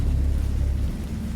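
A thunderstorm in the Lovecraftian horror interactive novel game Dagon gives a heavy, steady low rumble of thunder with a wash of rain, loud and continuous, with no talk.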